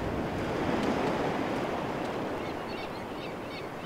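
Steady rushing water waves from the survival video game How To Survive, a continuous broad wash of surf that fades slightly toward the end, heard alone without talk.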